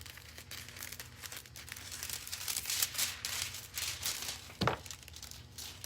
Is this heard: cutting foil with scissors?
yes